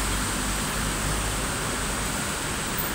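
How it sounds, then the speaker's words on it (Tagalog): Heavy rain pours down on a dark morning street that is starting to flood. It makes a steady, dense, hissing roar that fills the whole clip without a break, with no voices over it. "Lakas ng ulan."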